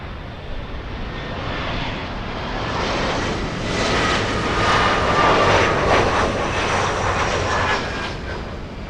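An Eastern Air Express airliner roars past at Miami International Airport, its engine noise a broad, steady rumble and whine that builds to a peak midway before easing, heard alone without talk.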